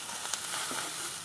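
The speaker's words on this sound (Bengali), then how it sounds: "বন্ধুরা আরেকটু লাল করে ভেজে নেব" Bitter gourd frying in a small amount of oil in a pan, a steady close sizzle with faint crackles and a few light spatula taps, no voices.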